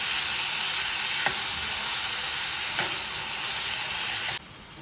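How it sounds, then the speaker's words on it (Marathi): Three medium chopped onions stirred and fried in a pan, producing a loud steady sizzle with a few scraping stirring strokes, close up and without voices. The sizzle drops sharply just before the end. "3 मीडियम साईज कापलेले कांदे, कट केलेले. मला छान मिक्स करून घ्यायचं."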